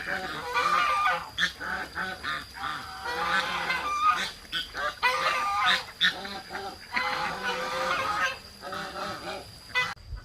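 Geese, ducks and chickens honk and cackle almost without pause at a backyard garden drinking trough, a dense, moderately loud farmyard chorus.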